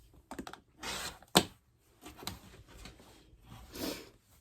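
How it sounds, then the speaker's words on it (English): Scissors trim excess fabric off the edge of a quilted table runner, giving a few close, crisp snipping and rustling cuts with short pauses between them and no talking. "I'm just trimming off this excess"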